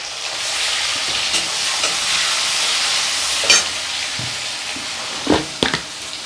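Chopped tomato sizzles loudly in a pan of fried onions, turmeric and spices for cholar ghugni, a steady broadband hiss with a few sharp spatters and spoon scrapes near the end.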